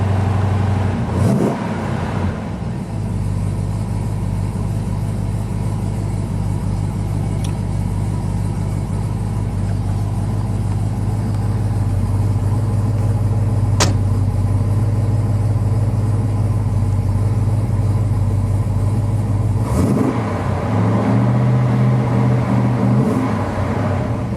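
Deep, rumbling V8 engine of a 1970 Dodge Challenger R/T in a video game idling and revving steadily, loud and close, with a couple of brief throttle blips near the start and end.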